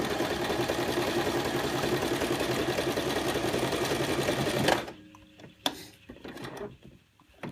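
A sewing machine runs steadily for a few seconds of back-stitching through fabric while making a turning gap in a sensory maze cuff, then stops, leaving faint handling clicks.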